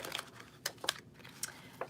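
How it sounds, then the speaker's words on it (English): Soft crisp flicks and riffles of a stiff tarot deck being shuffled come in a few short bursts, quiet and close against a hushed room. "These cards are really hard to shuffle."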